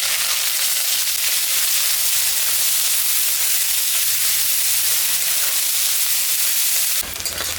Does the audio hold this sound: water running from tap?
no